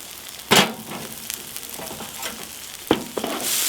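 Onions frying in oil on a braai, a steady close sizzle broken by two sharp bursts of spitting and stirring clatter, with no talking.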